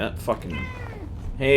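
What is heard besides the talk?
cat meowing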